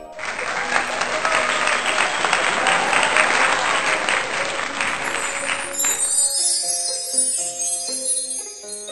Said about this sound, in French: au grand bonheur des jeunes qui se mirent à applaudir.